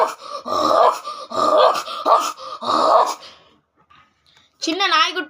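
A man imitates a big dog barking with his voice, giving four loud, gruff, evenly spaced barks followed by a brief pause and a short higher yelp.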